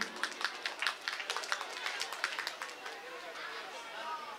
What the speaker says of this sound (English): Everyone clap for them